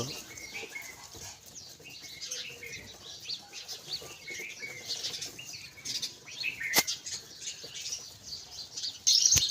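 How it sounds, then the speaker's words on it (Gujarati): A sparrow's wings flap as it flies near a shop in the morning, soft fluttering bursts mixed with light chirps and outdoor background noise, one sharper flap toward the end. "ત્યાં સકલી આવી જાય જો"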